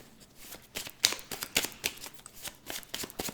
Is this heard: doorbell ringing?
no